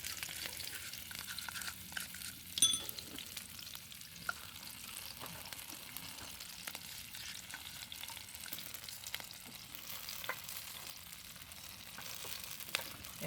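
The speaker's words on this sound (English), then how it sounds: "I let it stir fry a little bit." Chicken and onion sizzle in a pan while being stir fried in sauce for a Mandarin chicken dish. A steady, close crackling hiss carries throughout, with a few light stirring knocks and no talk.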